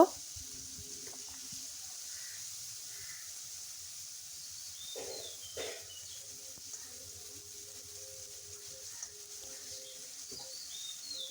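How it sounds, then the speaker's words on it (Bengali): Peanuts fry in oil while being stirred, a faint, low, continuous sizzle and hiss with a few brief clinks and scrapes from the stirring. "তার মধ্যে বাদামটাকে দিয়ে কিছুক্ষণ নাড়াচাড়া করে ভেজে নিচ্ছি"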